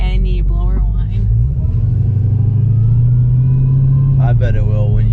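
A Dodge Hellcat's supercharged engine runs with a steady, loud tone rising and falling in pitch as it revs. A short burst of talk comes at the start and another near the end.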